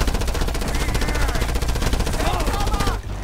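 Rapid automatic gunfire while shooting enemies in Just Cause 2, loud and close, as a continuous stream of shots that stops abruptly near the end.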